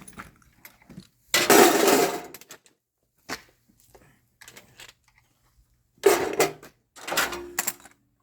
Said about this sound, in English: throw some tools in here